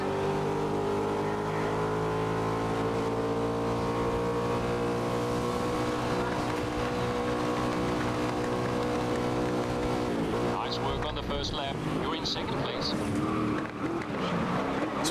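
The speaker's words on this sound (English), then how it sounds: "Pretty awkward to see this car reach top speed and just have the exhaust make all those explosions." A race car in GRID (2019) holds a loud, rising engine whine through a long straight, then the exhaust crackles and pops repeatedly as it reaches top speed, with a commentator talking over it.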